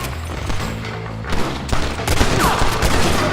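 Gunfire erupts in a Red Dead Redemption shootout, with loud close shots and rapid volleys cracking over a rumbling game soundscape, some reports overlapping in quick succession.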